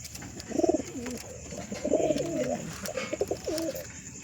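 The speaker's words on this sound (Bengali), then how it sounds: "এই একটা গিরিবাজ পায়রা বলে" Giribaz pigeons coo close by in soft, throaty rolling phrases, a few repeated coos rising and falling against a steady background hiss.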